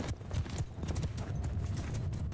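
Cavalry horses gallop in the Mount & Blade II: Bannerlord video game, a rapid, continuous drumming of many hooves at close range with no talking.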